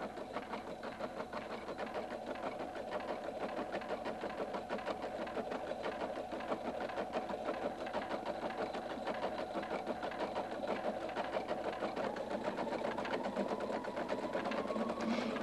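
A Husqvarna Viking Designer 1 sewing machine embroidering, a fast steady mechanical whirr with rapid needle clatter, running continuously at an even pace and fairly close, alone without speech.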